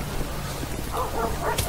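Dog in the Grand Theft Auto V police mod LSPDFR gives a couple of short, close barks and yips near the end, over a steady low background hum with no speech.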